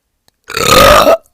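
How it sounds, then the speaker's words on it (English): One loud, drawn-out burp lasting under a second, close to the microphone, with silence before and after. "I've never burped into this before"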